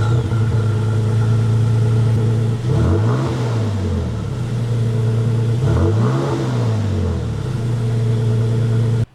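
Toyota Tacoma TRD Sport on its stock exhaust idles steadily, then the engine is revved twice, each blip rising and falling in pitch, with no talking.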